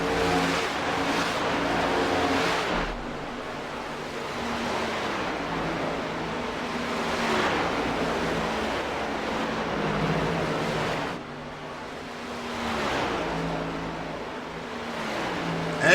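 Race cars roaring at full speed around the Brickyard oval in a racing video game, a continuous loud engine drone with rising and falling passes and pitch sweeps, no talk.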